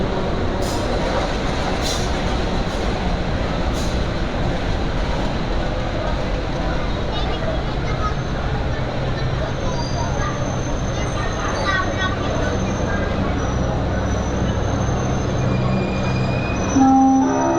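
Passenger train running on rails in Indonesia, Surabaya route, a loud continuous rumble and clatter of wheels heard from inside the carriage, with faint squeals and a brief tone near the end.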